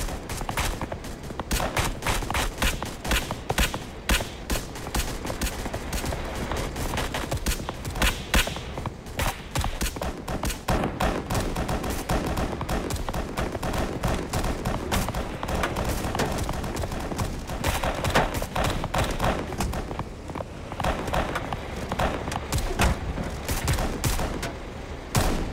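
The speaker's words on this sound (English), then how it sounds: "we're just using the machine gun over here to cover the gate" Sustained machine gun fire from the BRM5 video game rattles on without pause, loud and dense, with rapid overlapping bursts across the whole stretch.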